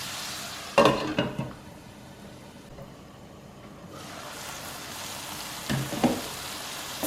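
Tomatoes cooking down in a pan for brinjal masala give a steady, close sizzle. Two louder bursts of stirring and utensil clatter stand out, and there is no talk.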